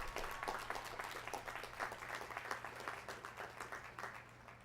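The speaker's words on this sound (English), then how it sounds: "Let's recognize her with our applause." Audience applause at a college commencement ceremony for a College of Education and Integrative Studies, a steady crowd of hands clapping in a hall, moderately distant and gradually fading toward the end.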